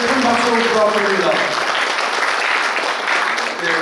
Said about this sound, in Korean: 김충배 장군님께 큰 박수를 부탁드립니다